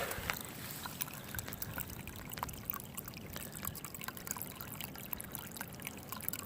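Thin stream of water trickling and pouring at a small trail water source in the mountains, a faint, steady splashing that continues without pause.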